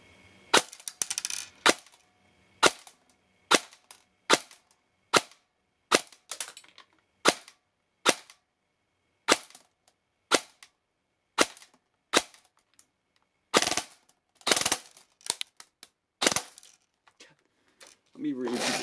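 Airsoft gun fitted with a 3D printed air nozzle firing a string of sharp, close single shots at an irregular pace, about two dozen snappy cracks separated by short silences.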